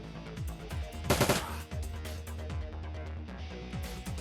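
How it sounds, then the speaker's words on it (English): Rapid bursts of turret gunfire from the Shadowrun: Dragonfall video game crackle over a steady, rhythmic game soundtrack, with one dense, loud burst near the middle. "Turret just shoots Griffin in the gut"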